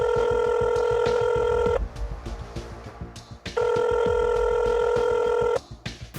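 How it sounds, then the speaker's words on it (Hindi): A telephone call being placed, with loud electronic ringback tones in two long bursts separated by a pause, alone with no voices. "अब ज़रा डॉक्टर कमर हाशमी को भी फ़ोन करते हैं"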